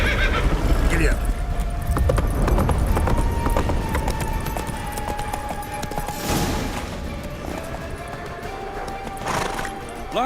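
A horse gallops and neighs in a video game, with fast hoofbeats and whinnies running the whole time under loud battle noise, shouting and talk.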